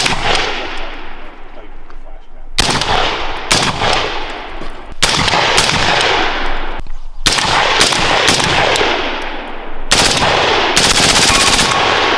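Bursts of suppressed rifle fire with 55 grain 5.56 ammunition through a Huxwrx Ventum suppressor ring out in rapid strings, several full-auto volleys separated by short pauses, loud and close with a sharp, somewhat muffled report.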